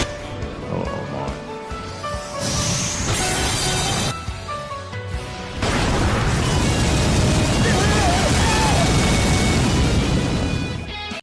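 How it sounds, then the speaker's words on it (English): Shoutmon's Starlight Explosion super move in Digimon All-Star Rumble unleashes layered booming blasts and crackling bursts with rising whooshes, building to a loud, sustained roar of explosions, while a voice shouts over the opening. "Shoutmon! Starlight explosion!"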